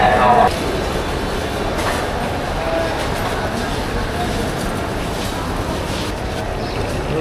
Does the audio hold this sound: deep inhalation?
no